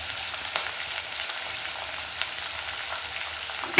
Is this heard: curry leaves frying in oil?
yes